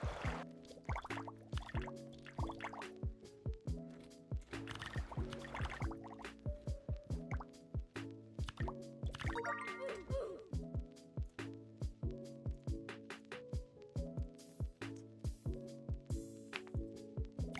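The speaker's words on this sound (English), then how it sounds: "My favorite sound is like the water sound. Wait, no. For now, it's the water sound. The one I'm using." Water drip sound effects play in the Keyboard Escape video game, a rapid run of plinking, bubbly droplet tones repeating in quick, uneven bursts over a steady musical backing.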